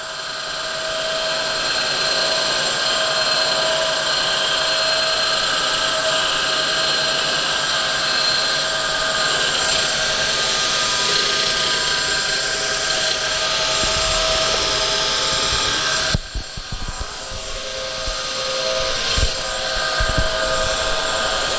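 A surface grinder working hard steel gives a loud, continuous whining roar with a steady hum that stays even for most of the stretch before its texture shifts and roughens near the end.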